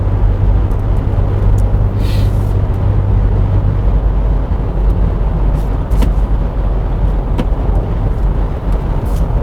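SsangYong G4 Rexton SUV accelerating from about 80 km/h in fourth gear, a loud, steady engine and road drone heard from inside the cabin, with a low hum that drops away partway through and no talking.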